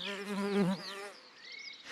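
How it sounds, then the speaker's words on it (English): A tiny Osmia bicolor solitary bee buzzes nearby outdoors, giving a clear droning hum whose pitch rises and dips as it moves, then fades to a thinner, fainter whine. "A tiny solitary bee called the Osmia bicolor."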